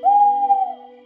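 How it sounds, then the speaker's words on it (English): Cartoon owl giving a single smooth, sustained hoot, clear and fairly loud against a silent background. "It is a real owl."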